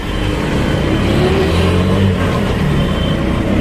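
Car traffic rumbles along a busy Delhi road, a loud, continuous wash of engine drone with passing vehicles and no clear gaps.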